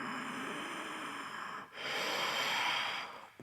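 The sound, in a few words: deep breathing during a yoga hip stretch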